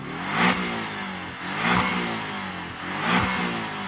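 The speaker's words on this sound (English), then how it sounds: "Shall we have a listen to that 4-cylinder? Go on, 4-cylinder Cayman." A Porsche Cayman four-cylinder engine revs three times in steady succession, each blip rising sharply then falling back, close and loud with no talking.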